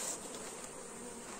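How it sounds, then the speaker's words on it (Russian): Honey bees shaken off a brood frame fill the air with a dense, steady buzzing swarm, close and even throughout, with no voices. "Сейчас часть пчелы сюда стряхну."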